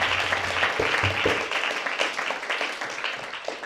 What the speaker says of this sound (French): Acclamons encore le Seigneur Jésus.